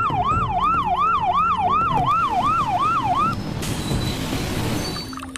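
A toy fire truck siren wails in a rapid, regular up-and-down electronic warble, fairly loud and nearby, then cuts out, leaving faint background noise.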